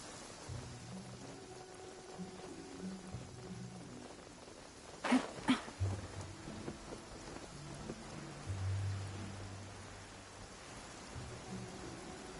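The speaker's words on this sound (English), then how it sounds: "It's raining again?" Steady rain falling in Genshin Impact near the Black Cliff Forge, a soft continuous hiss of drops with a brief sharp crack midway, fairly faint, under quiet background music.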